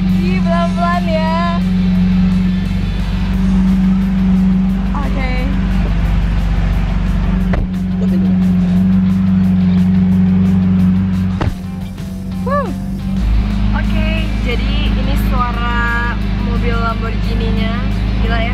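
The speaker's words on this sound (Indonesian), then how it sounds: "Lamborghini-nya, gila ya, suaranya kencang banget." A Lamborghini driving in Bali gives a loud, low engine rumble that runs almost throughout, dipping briefly, while people talk and exclaim over it.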